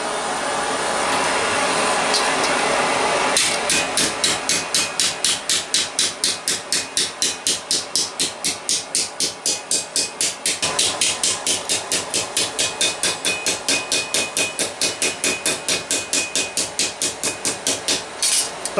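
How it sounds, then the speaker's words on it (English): Steel plate worked into Gothic gauntlet knuckles with rapid, evenly paced hammer blows, a long metallic rattling series close and loud, preceded by a few seconds of steady mechanical noise. "when we're hammering through in a moment I tend to go about that much further"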